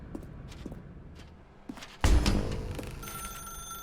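A telephone in The Stanley Parable: Ultra Deluxe video game begins ringing with a loud, sustained bell tone partway through, after a few soft footstep-like taps in a quiet dark room.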